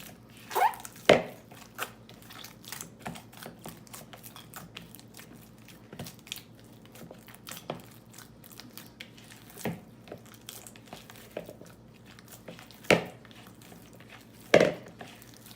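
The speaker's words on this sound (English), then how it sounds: "you can wet your hand, maybe 2-3 times, and continue mixing the dough" Sticky bread dough for Persian barbari is worked by hand, giving soft, scattered squelches and slaps with a few sharper close thuds over a quiet room hum, no talk.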